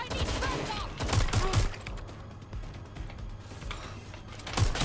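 Gunfire in the video game Watch Dogs Legion comes as clusters of sharp shots over a mechanical background, with rapid bursts near the start and end and a quieter stretch between.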